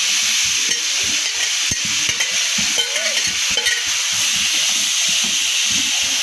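Grated pumpkin frying in a spiced masala sizzles steadily, with repeated scraping stirs of a spoon against the pan setting an uneven rhythm close by.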